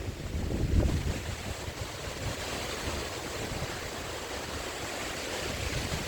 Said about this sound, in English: I'm feeling gusts right now